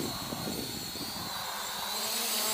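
A JJRC JJPRO X2 brushless quadcopter running at full throttle gives a loud, steady, high-pitched motor whine that rises slightly in pitch, heard close with no speech.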